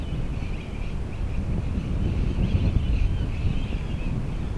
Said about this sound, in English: A bit more wind higher up, pushing it around a bit.